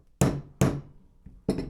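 Hammer blows drive the extractor out of a Ruger LCP II Lite Rack .22 LR slide: three sharp metallic knocks, the first two close together and the third after a pause, with a faint tap before it.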